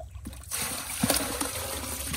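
Water trickles and splashes as it is poured out of a container holding fish, a short close pour with a louder splash near the middle.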